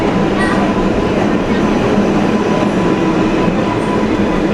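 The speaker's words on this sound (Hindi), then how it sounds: "फाइनली आ गई है भाई ट्रेन।" A New York City subway train pulls into a station, its steady loud rumble and rail noise filling the platform continuously without a break, with faint squeals high above the roar.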